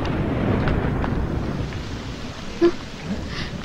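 A low, rolling thunder rumble and a steady wash of rain fill an outdoor film scene as a storm begins, with one brief soft thump partway through and no speech.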